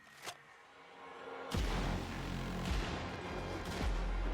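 Shotgun fire in a video game trailer, a few heavy booming blasts spaced about a second apart over a loud rumbling action soundtrack.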